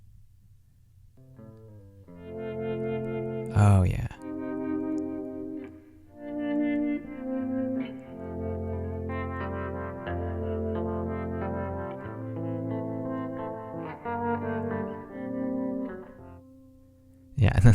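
A soloed saxophone track from a mix of a song plays sustained melodic notes with reverb, ending on a final held syllable; someone briefly speaks over it.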